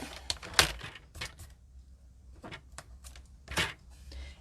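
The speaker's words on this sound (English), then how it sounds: "I'm going to go 1/4 inch, and cut" Quarter-inch paper strips are cut for a handmade card, heard as crisp, close clicks and short slicing scrapes in irregular bursts with quiet gaps between.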